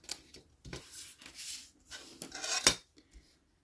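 Paper being cut along a ruler with a cutting tool for a scrapbooking mini album, heard as a run of short, close scraping and slicing strokes in an uneven rhythm, with one sharper stroke standing out near the end.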